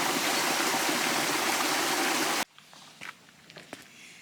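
Water in a garden water feature flows in a loud, continuous rushing wash that cuts off abruptly partway through. Quieter outdoor ambience follows, with a few soft footsteps or rustles.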